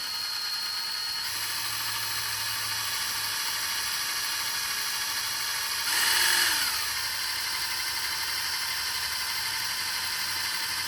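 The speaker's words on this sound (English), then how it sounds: "we're gonna slowly drill this hole out" A continuous whirring drill runs steadily through metal, slowly drilling out a hole in a bracket, with a brief louder surge partway through before settling back to an even drone.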